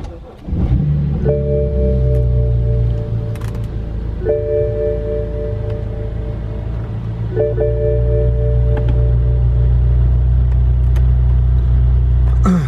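A 2008 BMW 335i engine cranks briefly, catches and settles into a loud, steady idle close by, with faint chimes and clicks from the dash and no talking.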